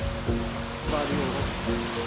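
Heavy rain pours down steadily on an outdoor trekking route, a dense continuous hiss close by with some faint tonal hum in the background.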